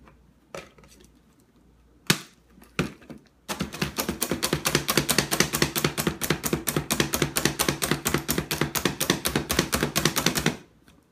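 Doritos chips are crushed with a masher: a few isolated knocks, then a long run of rapid, sharp crunching strikes in a fast, steady rhythm that stops abruptly.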